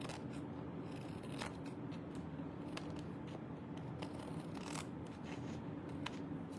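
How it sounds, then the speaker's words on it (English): Scissors snip away excess paper pieces while making an Easter folio craft, a series of faint crisp cuts spaced irregularly over a steady low room hum. "I'm just gonna cut off these excess pieces here."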